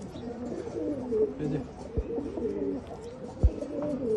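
Low, rolling coos from Pankhi pigeons, including a Jabra pigeon, repeat close by, with a couple of sharp knocks or taps breaking in among the calls.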